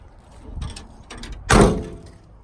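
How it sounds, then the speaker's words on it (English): Some faint rattling and shuffling, then a single heavy metallic thunk as the door of a scrapped 1953 Chevrolet swings shut, close by. "close this door."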